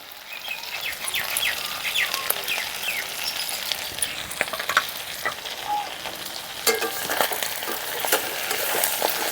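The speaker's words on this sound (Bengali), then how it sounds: "সব কিছু ভালো করে মিশিয়ে নেব।" Fish head frying in oil as turmeric, salt and dry chilli powder are stirred in, a continuous dense sizzle with spatula scrapes and taps, close and steady, faint bird chirps in the background.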